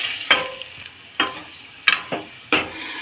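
Chicken curry stirred in a pan, with four distinct scraping strokes of a spoon at a steady, unhurried rhythm and a soft sizzle underneath, close and clear.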